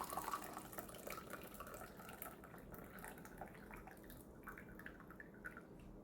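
Rinse water from a Jinggu white tea session being poured off into a drain, a steady close trickle and splash with light dripping, running continuously with no talking.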